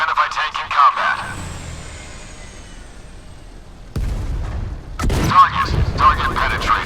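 Tank cannon fire in the combat video game MWT Tanks: after clipped radio-style voice lines and a quieter stretch, two loud, abrupt booms strike about a second apart, followed by rumbling and further noise.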